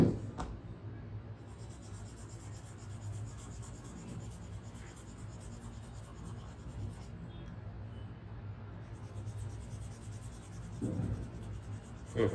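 A pen scratches across paper while a cartoon Stitch from Lilo and Stitch is drawn, a soft, close, continuous rubbing with small strokes and a faint murmur of voices near the end.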